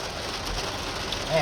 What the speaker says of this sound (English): Man, it's really raining now.